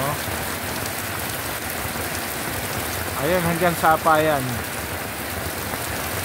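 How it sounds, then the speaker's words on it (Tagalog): Heavy rain from a storm in San Antonio, Nueva Ecija pours down steadily, a dense hiss of drops on surfaces, with a person speaking briefly over it near the middle. "napakalakas pa ng ulan dito"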